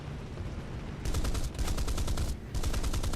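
Anti-aircraft guns fire from a small island at a BTD-1 Destroyer aircraft in War Thunder, heard as loud, rapid bursts of gunfire in three strong volleys over a steady background rumble.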